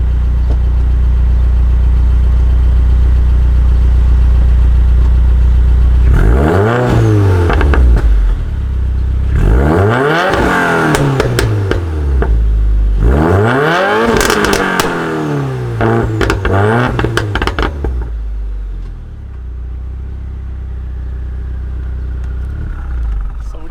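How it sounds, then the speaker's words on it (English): A modified Subaru WRX exhaust idles with a deep rumble, then revs sharply three times, each rise and fall ending in crackles, loud and close, before settling back to idle with no talking. "It's loud, but the crackles were loud, right?"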